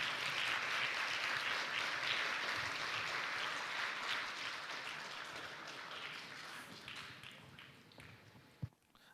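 Conference audience applauding at a lightning-talks event, steady dense clapping that fills most of the stretch, then thins and fades near the end with a sharp tap or thump.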